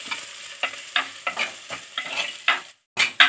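Drumstick leaves and onion sautéed with salt in a pan for pulissery, heard as a rhythmic series of brisk stirring scrapes over a soft sizzle, each stroke about a third of a second apart, with a short pause near the end.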